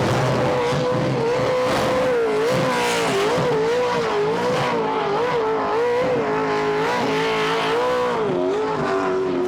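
Race cars at Goodwood's 75th Members' Meeting accelerating hard with tyres squealing, a loud, continuous engine howl that rises and falls as the cars power along the track.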